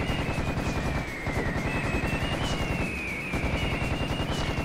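Dense, continuous rapid gunfire while shooting harpies in the Serious Sam HD video game, loud and unbroken, layered with game sound effects and faint shrieks.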